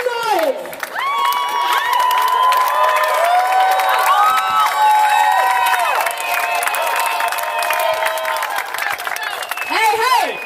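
A protest crowd at a march against Monsanto in Washington DC cheers, whoops and shouts together with scattered clapping, a loud, sustained roar of many voices with high yells rising above it.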